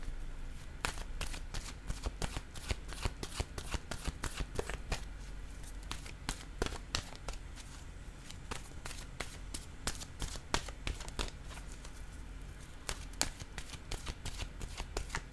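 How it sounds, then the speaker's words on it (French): Oracle card deck shuffled by hand in a steady, continuous run of soft riffling and sliding flicks with occasional sharper snaps, close and quiet, no speech. "Je vais choisir maintenant une carte de mon oracle de l'âme intuitive."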